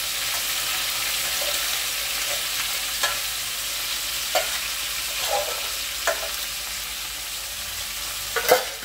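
Anchovies fry in hot oil in a wok, a steady crackling sizzle with occasional louder pops and stirring scrapes, close and continuous without speech.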